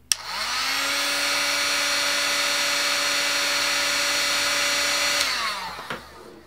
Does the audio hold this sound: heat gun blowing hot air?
yes